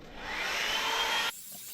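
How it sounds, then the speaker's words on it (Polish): Handheld hair dryer blowing steadily while drying hair, a loud broadband whoosh for over a second that cuts off abruptly, leaving quiet room tone. "Idę suszyć włosy. Mam swoją suszarkę"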